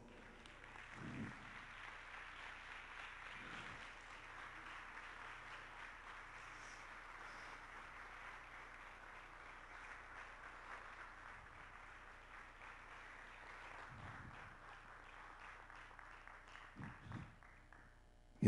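An audience at a percussion group concert applauds in dedication, a faint distant wash of clapping continuing for a long stretch with a few low thumps.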